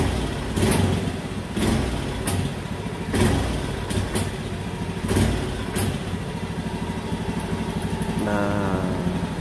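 Honda Beat motorcycle engine running close by, its steady drone broken by repeated throttle blips that stutter and sag as the engine loses power on sudden throttle, ending in a rising rattle.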